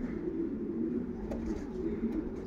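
Pigeons cooing at a pigeon loft, soft low rolling coos repeating steadily nearby with a faint background hum and no talk.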